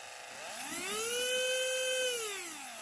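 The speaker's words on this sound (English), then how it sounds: "motor's running perfect, very low speed" A small electric motor in a Fly slot car spins at low speed with no axle fitted, giving a thin, steady whine that rises smoothly, holds, and then winds down, close and alone.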